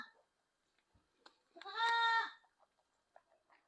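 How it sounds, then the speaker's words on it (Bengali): A Totapuri goat kid on a farm gives a single clear, nasal bleat lasting under a second, with faint scattered clicks and rustles before and after. "এটা একটা তোতাপুরি খাসির বাচ্চা"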